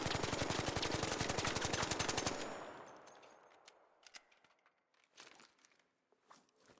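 A Stitcher gun from ARC Raiders fired without a stock in one fast, loud full-auto magazine dump lasting about two seconds, then its echoing tail and some faint clicks and handling noises.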